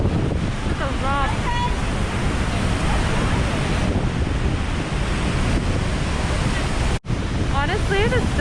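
Niagara Falls roaring in November, a loud, steady broadband rush of falling water with wind buffeting the microphone, plus brief bird chirps near the start and end and a short dropout near the end.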